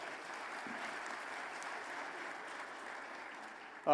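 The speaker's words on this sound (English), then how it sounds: "I'd like to just start with a round of applause" Applause from a large audience at the opening ceremony of a cybersecurity forum, a soft, even wash of clapping held at a steady level, with a brief louder burst at the very end.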